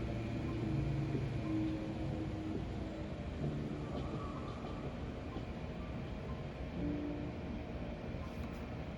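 Automated train in a video game rumbling steadily along at a low level, with faint tonal hums and squeals over a continuous rolling drone and no talk.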